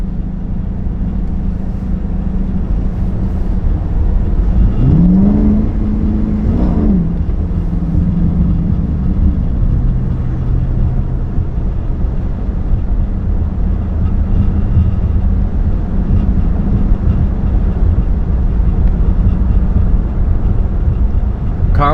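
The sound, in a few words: straight-piped 2022 Chrysler 300 S 5.7 V8 accelerating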